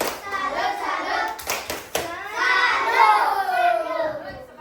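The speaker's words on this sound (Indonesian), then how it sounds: "Tepuk salut untuk kelas 3." Children in a grade 3 classroom perform the 'tepuk salut' rhythmic clap, with a few sharp hand claps mixed into loud, close chanting voices.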